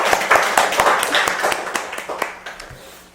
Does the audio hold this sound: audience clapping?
yes